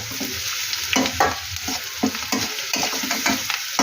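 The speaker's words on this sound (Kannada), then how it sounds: "ಆ ಕಾಯಿ ಎಲ್ಲ ಇದಕ್ಕೆ ಹಾಕ್ತಾಯಿದ್ದೀನಿ ನೋಡಿ. ಇದನ್ನು ಎಣ್ಣೆಲ್ಲ ಚೆನ್ನಾಗಿ ಫ್ರೈ ಮಾಡ್ಕೋಬೇಕು." Grated coconut frying in oil for chitranna, with a steady close sizzle broken by repeated scraping stir strokes and no voices.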